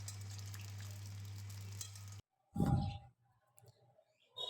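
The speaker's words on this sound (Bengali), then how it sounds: "তেল গরম করে আলুগুলো ভাজছে" Potatoes fry in hot oil with a steady, close hiss over a low hum for about two seconds, then it cuts off, followed by a few short bursts of clatter and sizzle separated by quiet gaps.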